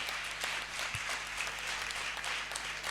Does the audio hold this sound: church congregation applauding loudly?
yes